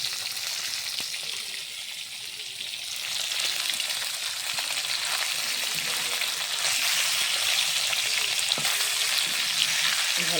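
Pieces of fish sizzling loudly in hot oil in a pan as they are turned, a continuous close crackling hiss with occasional scraping and stirring sounds and no talking.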